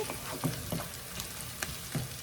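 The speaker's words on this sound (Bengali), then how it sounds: "তো পেঁয়াজটাকে আমি ভাজা ভাজা করে নিচ্ছি।" Onions fry in a pan with a steady close sizzle, broken by a few short scraping stirs of a utensil, and no voices.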